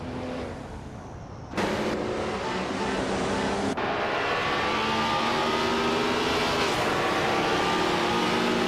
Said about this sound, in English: Pippi Langstrom's car is a Porsche 936, starting in 16th place